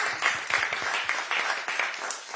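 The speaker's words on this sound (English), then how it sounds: "Let's give her a round of applause." A modest crowd at a town hall meeting claps steadily for a couple of seconds, a close, moderately loud round of applause without speech.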